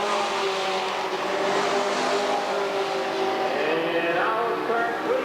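Sportsman race cars roar around a dirt oval at Redwood Acres Raceway in a steady, loud wall of engine noise, with pitch sweeps as cars pass and accelerate through the turns.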